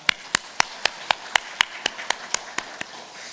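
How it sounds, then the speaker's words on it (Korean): A church congregation at Sunday morning worship applauds in steady unison, about a dozen crisp claps evenly spaced at a brisk beat, moderately quiet against a soft room background. "우리 감사의 마음으로 박수 보내드리겠습니다"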